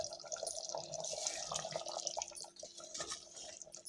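Oil poured over a simmering home-cooked fish curry (meen kuzhambu) gives a steady, close trickling and dripping splash lasting a few seconds, with a brief dip in the middle.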